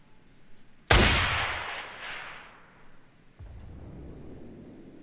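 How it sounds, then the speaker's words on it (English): RPG-7 rocket launcher in Payday 2 fires with a sudden loud blast that rings out and fades over a few seconds, followed by a lower rumbling explosion of the rocket further off. "I'm pretty sure the rocket doesn't explode in mid-flight like this"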